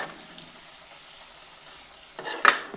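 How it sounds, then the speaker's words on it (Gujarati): Flour-based sambharo being stirred in oil in a pan: a soft, even sizzle with quiet stirring, ending in a sharper clink and scrape of the spoon against the pan. "તો બધી વસ્તુને સારી રીતે મિક્સ કરી દઈએ."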